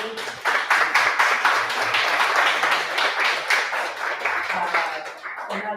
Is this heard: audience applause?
yes